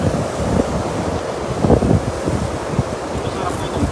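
Strong wind buffets the microphone at a fishing spot, a loud continuous rumbling roar with gusty swells and a faint wash like surf underneath.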